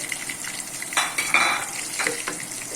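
Two chopped onions going into hot oil with whole spices in a pan for a potato and chickpea curry, sizzling steadily with a few sharp bursts as they hit the oil and scrape against the pan, close by and with no talk.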